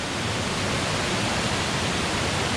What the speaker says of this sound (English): Voila, waterfall. It's coming down here by the buckets.